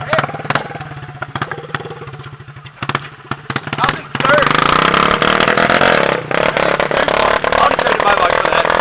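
A 50cc dirt bike engine with no muffler runs loud and raw, buzzing close by; it starts rough and intermittent, then rises to a steady, dense roar from about four seconds on, with voices heard over it.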